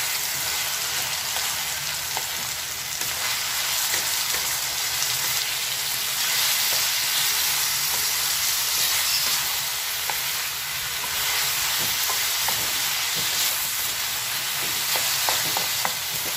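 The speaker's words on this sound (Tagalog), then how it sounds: "Pwede na po natin isunod ang ating karne. Haliin na po natin, gisahin-gisahin." Pork meat sizzles and fries in a pan while being sautéed for tokwa't baboy with vegetables, a constant hiss broken by occasional stirring clinks, close and steady.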